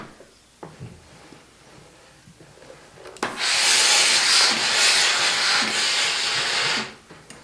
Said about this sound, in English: when I do hit the button for the steam on this one, it actually gives 2 pumps of the steam